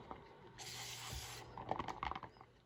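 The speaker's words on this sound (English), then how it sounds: "take your 3-in-1 rubber seal conditioner and spray all over them" A short, close hiss of 3-in-1 rubber seal conditioner sprayed over rubber parts from a nitro RC car exhaust, followed by faint dripping and light clicks, quiet overall.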